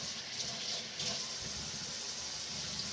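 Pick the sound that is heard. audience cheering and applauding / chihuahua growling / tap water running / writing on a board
tap water running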